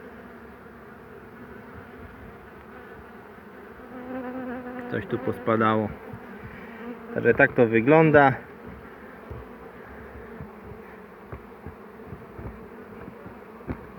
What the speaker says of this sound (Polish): już się tu zdenerwowały dzisiaj pszczółki